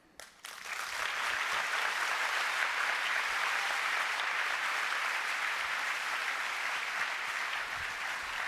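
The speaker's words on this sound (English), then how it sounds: "A round of applause for Grant Oliphant" An audience breaks into applause after an address to a school district gathering, starting with a few scattered claps then swelling into full, steady clapping that holds for several seconds.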